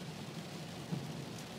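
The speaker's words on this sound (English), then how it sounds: "Rain's still coming down, isn't it?" Steady rain falls through a very active thunderstorm cell in East Yorkshire, a soft even hiss with no distinct thunder clap, heard alone at a faint, continuous level.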